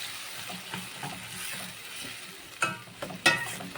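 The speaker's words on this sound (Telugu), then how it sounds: "దాన్ని ఇలా వేసేసుకొని కలిపేసుకోవాలి" Tomato and onion puree is stirred into chicken curry in a pan, making a continuous close frying sizzle with soft scraping strokes, then two sharper metallic spoon knocks near the end; no voices.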